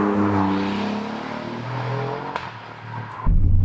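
Alfa Romeo Quadrifoglio V6 engine in race mode, revving loudly with a steady throaty drone, then a sharp jump in intensity near the end as the revs surge.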